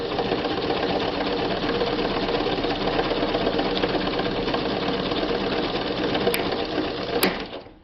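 A vintage Kingston Precision Synchro-Matic sewing machine stitching fabric, a loud, close, continuous mechanical whir with rapid needle chatter that holds steady and winds down at the very end, with no talk.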